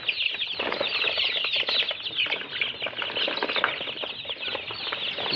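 Turkey and local chicken chicks shuffle and flap their small wings inside a crate, a close, continuous flutter of wings and scratching with faint peeping throughout.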